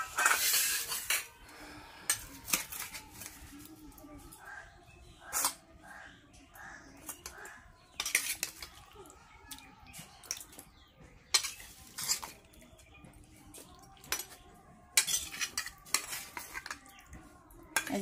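Cooked meat is scooped from a pot into a serving bowl, with sharp metal clinks and scrapes of spoon against pot coming in irregular bursts, close by, amid brief moments of talk.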